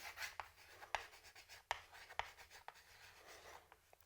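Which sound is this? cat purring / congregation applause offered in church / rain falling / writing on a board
writing on a board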